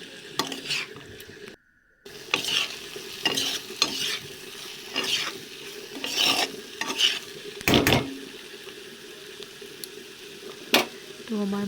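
Boiled potatoes are sautéed with spice masala for egg curry, sizzling steadily in a pan while a spatula scrapes and knocks against it in irregular strokes, with one brief pause near the start.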